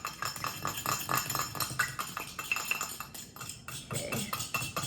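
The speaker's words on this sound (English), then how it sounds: "Okay, I think I'm gonna mix this up, put it on my salad." Cutlery and a utensil clink against a dish while vinegar dressing is mixed into a huge salad, a steady run of close, irregular clinks and scrapes with no talking.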